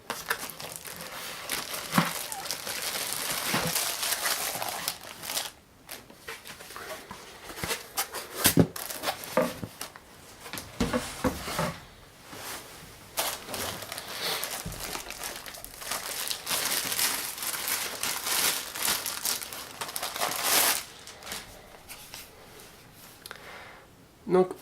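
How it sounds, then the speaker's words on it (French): Packaging crinkles and rustles near the microphone as a Corsair RM850 power supply is unboxed, with continuous irregular crackling and a few sharp thumps. "On va d'abord déballer le bloc."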